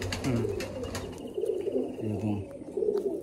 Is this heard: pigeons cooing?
yes